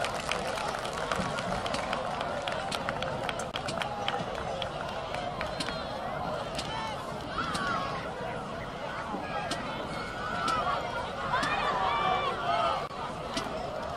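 Crowd at a high school football game between Woburn and Boston College High School applauding for a coach's family, a broad, continuous wash of clapping and cheering across the stands, with crowd murmur mixed in.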